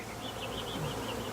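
Angry honey bees swarm around a hive being captured, a dense continuous buzz with a fluctuating whine, loud and close, with no voices.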